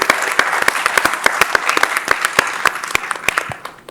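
A live audience at a Malayalam film event applauds steadily, with sharp individual claps close by over a continuous wash of clapping that tapers off toward the end.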